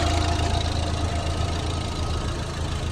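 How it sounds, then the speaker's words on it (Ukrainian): A car engine idles at an even, steady rumble with a faint rhythmic tick, close by and constant throughout. "Мотор працює рівненько, сухий,"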